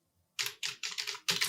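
Fingers tap out a quick run of six keystrokes on a computer keyboard during a beginner typing lesson, crisp, close clicks in an uneven rhythm after a brief silence, with no speech.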